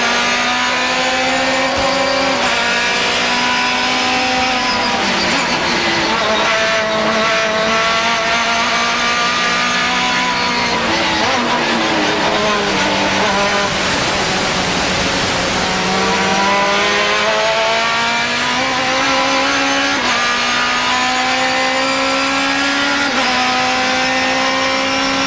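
Formula Atlantic race cars battling on track at the 1999 SCCA Runoffs, engines screaming at high revs with rising and falling pitch through shifts and corners, loud and continuous throughout.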